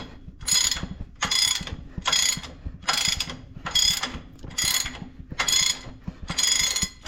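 A socket wrench ratchets in eight steady bursts while loosening bolts on a White 4-270 tractor, each stroke a close, loud rattle of clicks with short gaps between, and no talking.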